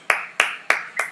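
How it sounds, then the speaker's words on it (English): Four sharp hand claps, evenly spaced and close, each with a quick bright attack. "Deserve to clap that comment."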